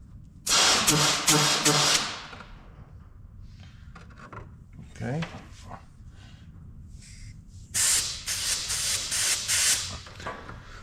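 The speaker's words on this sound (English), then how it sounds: "I can hear air coming out, so we're good" Air hissing out of a hot-wired fuel line on a squarebody Chevrolet Suburban being revived, coming in two loud bursts with quieter rustling between them and a brief spoken word.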